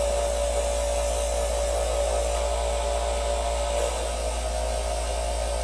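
A Chef's Choice electric knife sharpener hones a knife's final edge: a constant low motor hum with a soft, faint grinding hiss, steady and close throughout.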